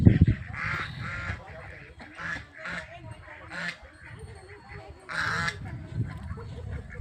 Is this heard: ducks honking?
yes